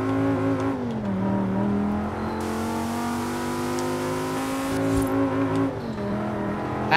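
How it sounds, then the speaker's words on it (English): A Dodge Viper roars through smoky burnouts, its engine revving and wavering up and down in pitch, with a steady hiss of tire spin joining in for several seconds at full volume. "Big smoky burnouts."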